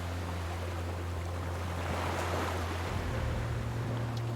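Sea waves wash onto a beach on a moonlit night, a continuous low roar of surf rolling steadily and fairly close, with no talking.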